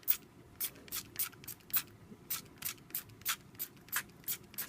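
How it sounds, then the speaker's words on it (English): Coconut oil sprayed onto oven-cooked jerk lamb chops in about a dozen short, sharp hissing bursts at a quick, fairly even rhythm, close and alone with no talking. "I'm gonna spray some coconut oil on my lamb chop."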